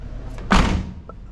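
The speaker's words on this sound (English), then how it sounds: "Doors shut pretty good, don't they?" A 1978 GMC truck door swung shut with a single solid thump, close and loud, with a faint click just after it over low background rumble.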